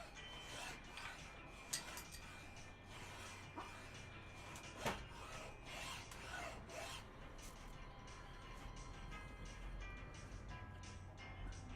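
A rasp files wood during Maori carving of a hatchet handle, giving repeated rough scraping strokes in a steady rhythm, close and fairly quiet, with occasional knocks.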